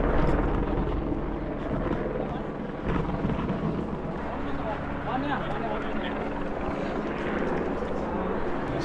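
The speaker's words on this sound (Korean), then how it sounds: "하늘 위로 시끄러운 헬리콥터 소리가 들려왔어요." A loud, steady helicopter rumble fills the air overhead in Hallstatt, continuous throughout, with faint outdoor background noise and some voices mixed in.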